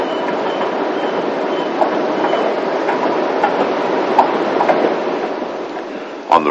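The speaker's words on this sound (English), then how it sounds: "On the return journey, the train runs beside the lake and heads back towards the terminus" A narrow gauge steam train runs beside a lake on its way back to the terminus, giving a steady rumble with rhythmic clicking of wheels on rail joints and a few sharper clanks.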